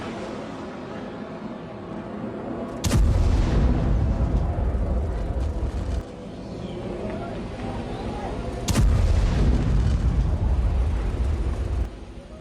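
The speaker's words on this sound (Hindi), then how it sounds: "यूक्रेनी काफिले पर ड्रोन से अटैक हुआ है।" Heavy, booming blasts from a drone attack on a Ukrainian military convoy, with two big impacts followed by long rumbling roars, loud and continuous throughout.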